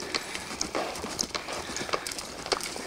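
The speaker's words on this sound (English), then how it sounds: "Let him lope. That's a nice controlled, quiet lope." A horse lopes in a round pen, its hooves producing quick, rhythmic muffled thuds over soft ground at moderate distance, with faint scattered clicks in between.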